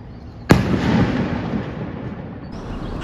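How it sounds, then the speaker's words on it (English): A bomba, a mortar-shell firework set off for Corpus Christi in Antigua, Guatemala, bursts with one sudden loud boom, then a long rumbling roll that echoes and slowly fades, heard alone without talk. "These fireworks are like mortar shells, which are launched into the sky to explode."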